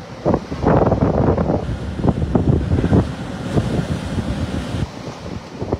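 Typhoon Uwan at its height, with violent gusts battering the microphone and crashing waves surging in irregular loud bursts, then easing to a roaring background.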